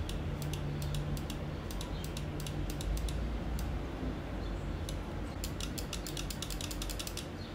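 Pulsar X2 Bruce Lee Edition gaming mouse being clicked: light, sharp clicks in quick irregular runs and clusters, close and fairly quiet, alone without talk.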